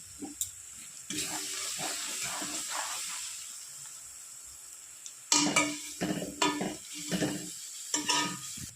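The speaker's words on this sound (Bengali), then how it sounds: "এবার আমি গ্যাসের ফ্লেমটা একটু কমিয়ে হালকা আজে কষাতে থাকবো" Spices frying in a pan over a lowered gas flame for a new-potato and goat-liver chorchori, soft sizzling and hissing under intermittent scraping strokes of a spatula, quiet at first then louder stirring in the second half.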